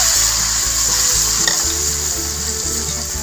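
Water poured into frying chopped onions in a village-kitchen pan, set to cook king crab, brings a loud, dense, continuous sizzle with rhythmic stirring scrapes underneath.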